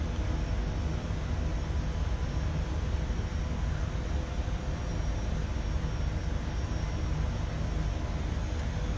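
An Airbus H160 helicopter taxiing along a runway, heard as a loud, constant turbine whine and broadband rotor roar with no pauses.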